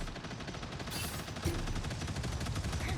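Turret in the hero shooter Marvel Rivals firing a rapid, continuous stream of shots that runs steadily through the whole stretch, with a sharper burst near the middle over busy game noise.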